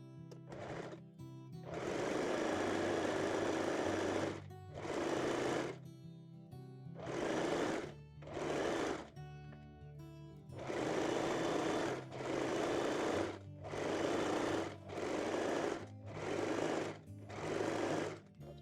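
A sewing machine zigzag-stitches fold-over elastic onto the waistline of lace panties, running in repeated bursts of loud, steady whirring separated by short pauses.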